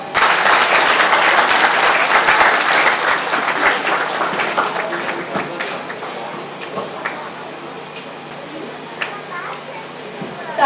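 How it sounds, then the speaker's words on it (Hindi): Applause from an audience at a Good Friday church music programme, dense sustained clapping that starts loud and gradually thins over about ten seconds. "तालियों से इनका स्वागत करें"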